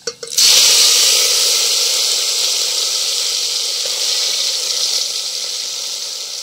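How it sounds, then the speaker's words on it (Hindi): Saag tempered with garlic and ginger in hot oil, a loud close sizzle that bursts on at once and holds steady, slowly easing. "साग को तड़का लगाने लगी है"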